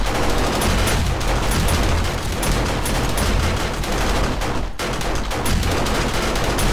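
Automated gun turrets in the video game 7 Days to Die fire in a loud, dense barrage of rapid shots that runs almost unbroken, with no voice over it.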